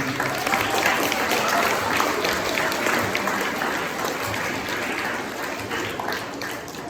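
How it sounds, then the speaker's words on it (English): A school band concert audience applauds parents, a dense, steady wash of clapping that fills the whole stretch and tapers slightly toward the end. "Let's give our parents a round of applause, students."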